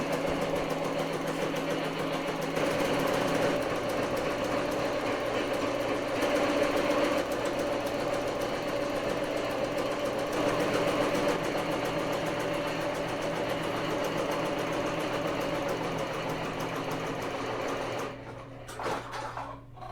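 An embroidery machine stitching a structured hat, slowed to about 550 stitches per minute, hums and chatters in a steady, rapid mechanical rhythm up close, then winds down and stops near the end.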